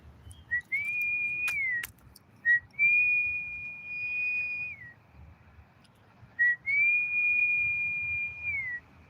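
Three long, steady whistled notes, each with a quick rising onset and a falling tail, clear and close over a quiet background.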